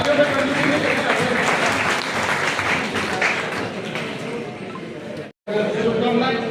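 An audience claps at an Engineers' Day ceremony honouring Visvesvaraya, with steady, dense applause filling the hall. The clapping cuts off for a split second near the end, then resumes.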